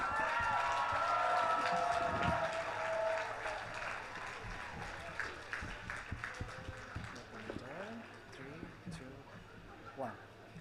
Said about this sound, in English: let us give our graduates a big round of applause